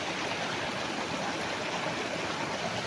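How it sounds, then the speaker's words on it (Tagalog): A river flows steadily beside a farm lot in Liliw, Laguna, giving a constant, even rush of water that fills the whole stretch without pauses or voices. "So tabi po mismo ng magandang ilog."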